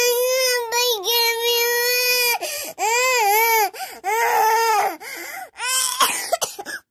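A baby cries loudly and close by in long, wailing, pitch-bending sobs broken by short gasps, with a few coughs and whimpers toward the end.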